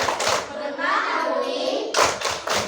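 A group claps in quick rhythmic bursts during a children's classroom clapping chant, sharp claps at the start and end framing a stretch of sung or chanted voices.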